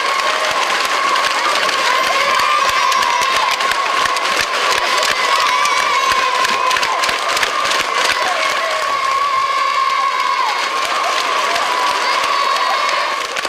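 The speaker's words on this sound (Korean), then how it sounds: "경기가 끝나자 또다시 우렁찬 만세 환호성이 경기장의" Stadium crowd at the end of a football match in North Korea, a steady dense roar of cheering and applause that fills the whole span, loud and continuous with a sustained shouted tone running through it.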